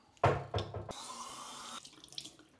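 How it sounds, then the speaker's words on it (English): Tap water runs steadily into a sink to rinse a homemade mold, a brief splashing burst that stops abruptly, followed by faint handling clatter. "Give it a quick rinse."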